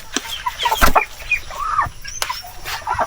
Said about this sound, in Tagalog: Ito rin yung ating mga heritage chicken.